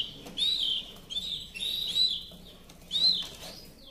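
A pet songbird chirps nearby in four bright, high whistled bursts at irregular intervals, with quiet background noise between the calls.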